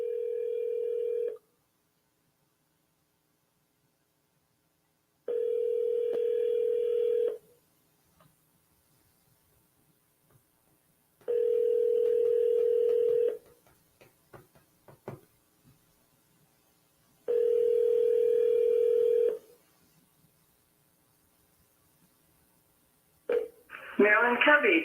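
Four steady telephone tones repeat at regular intervals while calls are placed to leave voicemails, each lasting about two seconds, clear and close, with short gaps of quiet and faint clicks between them and a burst of talk at the end.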